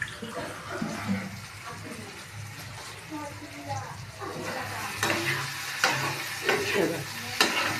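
Potatoes frying in oil in a pot, a soft crackling sizzle broken by scraping stir strokes and a few sharper clicks, fairly close, with a quiet voice talking under the cooking sounds.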